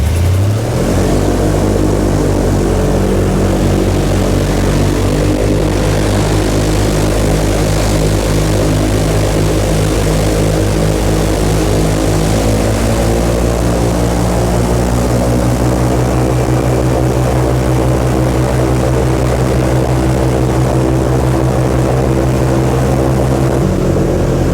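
Airboat on a New Orleans swamp tour roars nonstop with its big propeller engine, a loud, close, droning blast that holds steady for the whole stretch with slight shifts in pitch.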